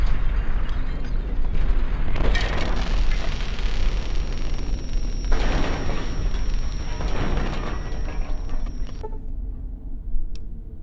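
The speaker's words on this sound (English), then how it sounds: "I'm just gonna watch these explode." Explosions in the video game Fallout New Vegas: a continuous rumbling roar of successive blasts with a few stronger bursts, fading out at the end, with no talk.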